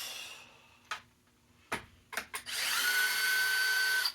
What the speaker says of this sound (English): We will pull out some AV bolts.